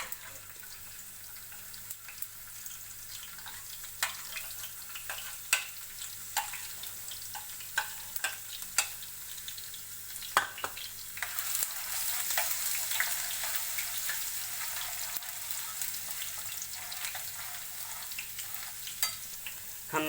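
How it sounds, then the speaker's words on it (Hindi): Chopped garlic frying in ghee in a pan for a chana daal tadka, with a steady close sizzle, scattered sharp crackles and stirring clicks that swell toward the middle; no talk. "हमने लहसुन को कलर चेंज होने तक पकाना है, जब तक इसका कलर ब्राउन नहीं होता"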